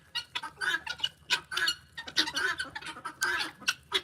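Colorful roosters clucking close by in a farmyard, a run of loud, repeated throaty clucks and squawks in uneven bursts, with no talking.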